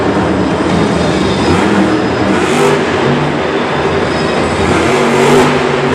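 El Toro Loco monster truck's engine roars loudly and steadily through a slap wheelie at Monster Jam Singapore 2017, a dense continuous growl with rising and falling revs and arena noise around it.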